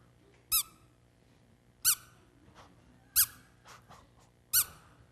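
A voice imitates a squeak while walking down an airplane aisle, giving four short, high, harmonic squeaks spaced evenly about a second and a half apart, close and fairly loud, with faint cabin murmur between them.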